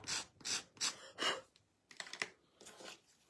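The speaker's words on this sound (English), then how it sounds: "I'm going to sand these bottoms off so they're flat, okay?" Sandpaper scraping the bottoms of craft flowers flat after scissor trimming, a series of short rhythmic rasping strokes, four firm ones followed by lighter, quicker rubs, close and alone.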